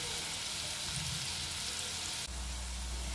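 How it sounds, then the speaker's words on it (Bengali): Slices of elephant foot yam fry in oil over low heat, giving a steady, even sizzle that continues throughout without talk. "আস্তে আস্তে এটাকে সিমে দিয়ে ভাজতে হবে সুন্দর করে।"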